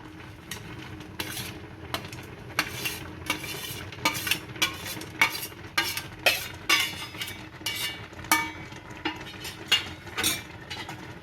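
A spoon stirs boiling milk with dry fruits for seviyan kheer in a pot, making a steady series of close scraping, clinking strokes over a soft bubbling simmer, growing livelier as the stirring goes on.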